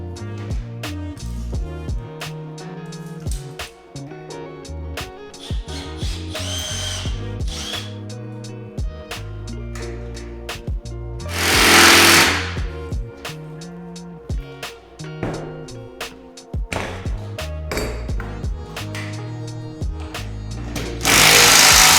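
Power tool bolting garage cabinets to a wall, repeated bursts of loud whirring and ratcheting with short pauses between, close up and uninterrupted by talk.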